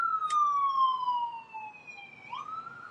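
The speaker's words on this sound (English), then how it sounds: "as we've got the sirens going" A siren passes with a long, slowly falling wail that then swoops back upward, moderately loud and a little distant over low background noise, with no talking.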